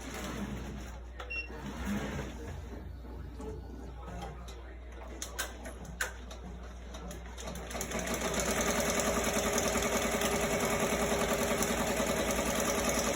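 A Ricoma MT-1501 embroidery machine stitching, first with scattered clicks and mechanical noise, then settling into a steady, loud, rapid needle rhythm that continues to the end.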